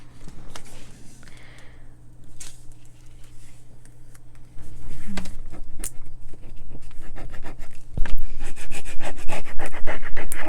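Paper being burnished onto a junk journal folio: steady, scratchy rubbing strokes run continuously over a low background hum, growing a bit louder and more rapid toward the end, with no talking.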